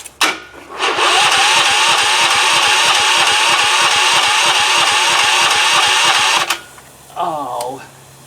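A small pressure washer engine is pull-started cold and runs with a rapid, steady, buzzy chug for several seconds before cutting out, followed by a brief rising tone, close and loud.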